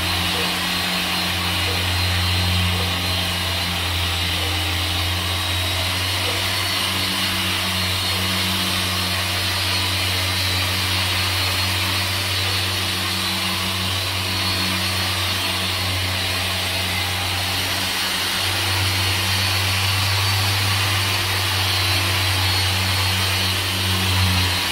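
Car paint polisher running at speed 5 on a car door panel during ceramic coating prep, a steady whirring motor hum with a low droning tone held throughout, no talking.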